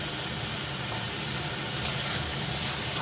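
Spice masala with tomatoes frying in a pan, a constant dense sizzle close by with a brief stirring clatter partway through, no voices.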